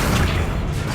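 Accio summoning spell cast in Hogwarts Legacy: a short, loud, dense magical whoosh with a rumbling low body, lasting about a second.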